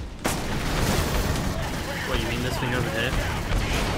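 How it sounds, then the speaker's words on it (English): A grenade bursts amid sustained gunfire in the Aliens: Colonial Marines game, a dense, loud wash of blasts and shots after a sharp initial hit, with players talking over the action. "Ow, oh, grenade."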